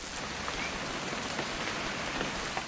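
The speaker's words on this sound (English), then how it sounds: "It's gonna rain the whole weekend, isn't it?" Steady rain falls in the video game What Remains of Edith Finch, a dense, even patter of drops hitting surfaces with no voices over it.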